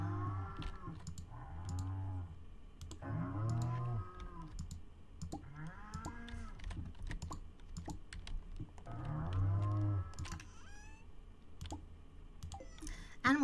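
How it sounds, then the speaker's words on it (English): Cows in the farming game Stardew Valley moo repeatedly in long, low calls over rapid clicking, apparently from a keyboard, with faint talking in places. "Our cows."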